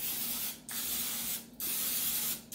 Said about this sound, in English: you have to spray the pan really, really well